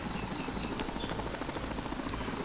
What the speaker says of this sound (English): So now we're continuing the helicopter